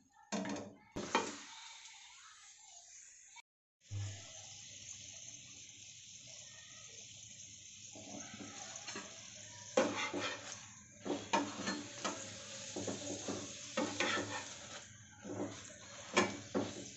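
Rumali parathas fry in a pan with soft sizzling, broken by bursts of stirring and scraping of a utensil against the pan, fairly quiet and close.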